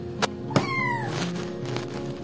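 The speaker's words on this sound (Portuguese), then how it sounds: "Miando no meu ouvido." A pet cat meows once indoors, a short, clear, falling cry close by, after a couple of light thumps, set against a quiet room hum.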